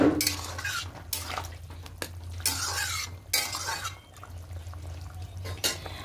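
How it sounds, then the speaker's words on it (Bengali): Soybean chunks drop into a pot of boiling gravy with wet splashes and bubbling, followed by clinks and scrapes of a utensil stirring against the metal pot, close by. "ঠিক এই সময়তে সয়াবিনগুলো দিয়ে দেবো"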